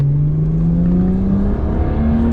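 BMW 330d sleeper tuned to 700 Nm launching hard, its engine note climbing steadily as it pulls away with a loud, continuous drone and no voices over it.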